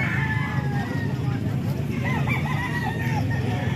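Roosters and chickens at a live poultry market in Calumpit, with cluck-like calls and crowing over a steady crowd babble and low background hum.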